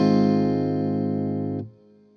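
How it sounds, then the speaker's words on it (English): An electric guitar chord played through a plate reverb effect in Amplitube on iOS, with slight preamp crunch, rings out loud and sustained, then cuts off, leaving a brief reverb tail. "you should have a really good usable plate reverb"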